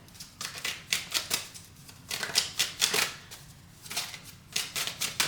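Tarot cards are shuffled by hand in quick bursts of crisp riffling and slapping, several clustered flurries separated by short pauses, close and fairly quiet.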